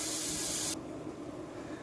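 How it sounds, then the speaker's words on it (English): Steady loud sizzling hiss of snapper frying in hot oil, its bright top edge dropping away partway through while the crackling sizzle continues. "I'm just going to go ahead and finish up with my frying"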